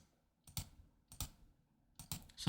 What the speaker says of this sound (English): So I'm clicking and pressing Shift